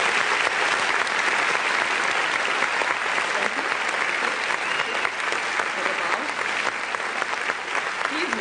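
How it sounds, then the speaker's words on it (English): A studio audience gives a round of applause, steady bright clapping that holds for about eight seconds with a faint murmur of voices beneath it. "Can we just have a round of applause for that?"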